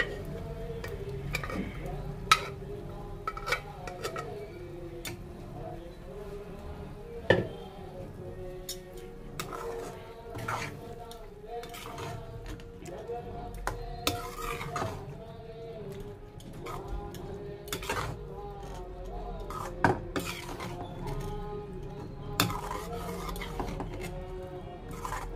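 Boiled rajma beans go into a pan of hot oil and red masala and are stirred, giving soft sizzling with repeated clinks and scrapes of a spoon against the pan, fairly quiet and close.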